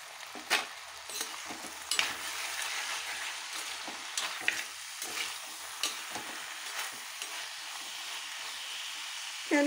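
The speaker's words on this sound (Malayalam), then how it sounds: "വെളിച്ചെണ്ണ ഇതിൽ പിടിക്കുന്നത് വരേക്ക് ഒന്ന് വഴറ്റാം" Long beans and curry leaves sautéing in coconut oil, a steady close sizzle with irregular stirring scrapes and clinks running throughout, no talk.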